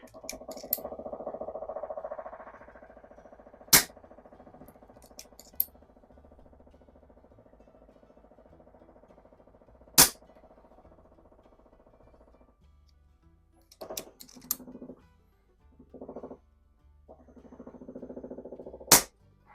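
A .177 Pinty Buster PCP air pistol fires at a playing-card target: three sharp, isolated cracks spaced several seconds apart, with a quiet low hum and faint handling noises between shots.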